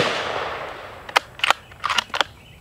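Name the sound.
rifle shot with subsonic ammunition at AR500 steel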